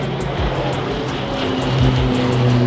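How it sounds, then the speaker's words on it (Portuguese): A propeller airplane passes overhead outdoors, a steady loud drone with a shifting engine pitch that holds for the whole moment and builds slightly toward the end, with no voices. "E olha o avião!"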